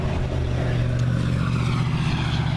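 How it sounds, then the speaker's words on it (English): Steady roar of noisy traffic on a busy road beside a house, a continuous low engine and tire rumble that stays even throughout with no break or passing peak. "I don't like the busy road with the noisy traffic"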